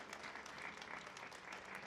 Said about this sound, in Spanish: Un aplauso, por favor, para este poema